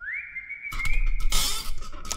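A person whistles a single sustained rising note that holds steady, then wobbles as rustling noise and breathy bursts crowd in around it, close and fairly loud.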